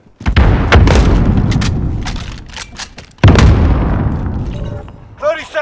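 Grenade explosions in Call of Duty: Modern Warfare: two loud, heavy booms, each trailing into a long rumbling decay, with gunfire and game sounds between them and a brief voice near the end.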